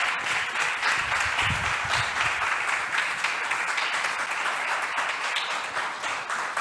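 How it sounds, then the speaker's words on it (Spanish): Broad, continuous applause from a church congregation during a sermon, dense and steady throughout with a few faint voices mixed in. "¿Cuánto pueden darle un aplauso, Señor?"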